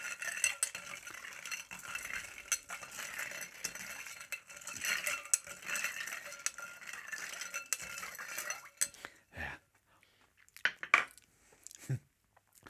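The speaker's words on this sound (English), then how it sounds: "So just give it a quick stir around." A spoon stirring a blackberry cocktail with ice in a glass, close rattling clinks and scraping for several seconds, then a few sparse isolated clinks.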